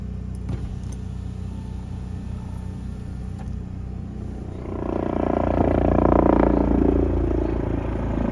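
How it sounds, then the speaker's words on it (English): A camper van's engine idles to charge the batteries, a low steady rumble that swells louder partway through and keeps running evenly to the end. "The reason I'm running the engine is because I'm a little bit low on power."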